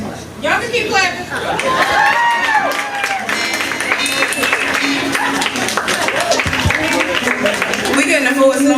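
Crowd clapping at a live music show runs continuously beneath overlapping voices and chatter, a busy steady patter of hands that stays fairly loud throughout.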